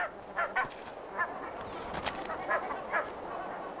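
Several wild geese give short, nasal honks outdoors, scattered calls at irregular intervals at moderate distance against a soft background hiss.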